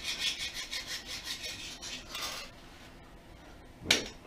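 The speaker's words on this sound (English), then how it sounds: "I'm using a carbide scraper, a machine scraper, for pulling this paint off here." A carbide machine scraper pulls paint off a guitar headstock in repeated rasping strokes, fairly close and steady, with a quieter pause near the end before one sharp scrape.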